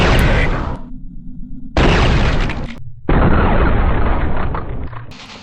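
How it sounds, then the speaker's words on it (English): Repeated explosions with gory bursts as enemies blow apart into bloody gibs in Quake 2 on the Nintendo 64, loud booming blasts in quick succession, each cutting off abruptly before the next, with no speech. "There's nothing more satisfying than watching your enemy explode into a pile of red bloody gibs."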